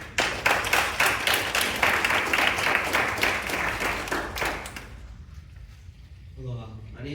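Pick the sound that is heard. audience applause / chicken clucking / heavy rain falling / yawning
audience applause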